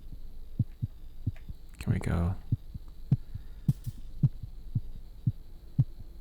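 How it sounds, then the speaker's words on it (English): Heartbeat in The Cat Lady horror game, a regular, slow series of low dull thumps over a steady hum, with a voice speaking briefly midway. "Is that our heartbeat?"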